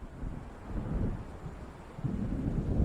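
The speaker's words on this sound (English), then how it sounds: "It seems there's a storm coming." Low rumbling thunder of an approaching storm by the sea in the video game Alan Wake, rolling in continuous swells with windy noise, loudest toward the end, with no voices.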